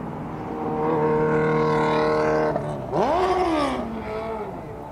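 A vehicle engine revs high and steady, drops sharply, then surges again in pitch, as if a gear were missed or the driver downshifted, heard moderately loud and fairly close.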